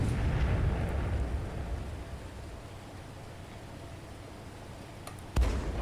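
A torpedo strikes and sinks a ship in the U-Boot tabletop game, a long, low rumbling explosion roar that slowly fades, then a short sharp thump near the end, with no voices.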